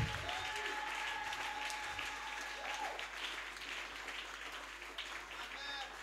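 Congregation applauding at a church gathering, a steady wash of clapping across the whole stretch with a few voices and musical tones underneath.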